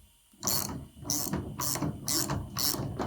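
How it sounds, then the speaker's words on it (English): A ratchet tightens the big spindle nut on a quarter midget car hub, five sharp, close, evenly spaced bursts of rapid metallic clicking separated by brief pauses. "And then we're going to tighten the big spindle nut on there."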